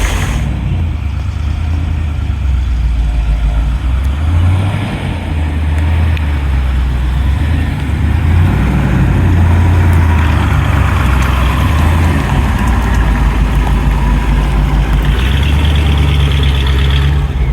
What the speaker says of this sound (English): And now it's time to drive this beautiful 1971 Iso Grifo.